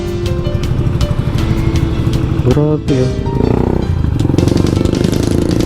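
A SYM Panarea 125 motorcycle engine runs loudly and steadily while riding, with a brief dip in the middle, as someone talks over it.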